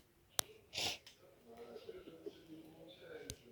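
A woman with a cold sneezes once, a sharp nearby burst followed by a sniffly breath, then faint breathing and quiet room noise continue.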